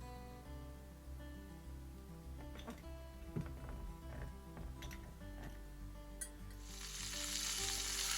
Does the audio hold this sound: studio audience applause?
no